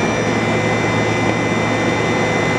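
A Doosan NHP 5000 four-axis horizontal machining center, new in 2021, with its spindle running at 10,000 RPM, giving a loud, steady high-pitched whine over a constant mechanical hum, with no talking.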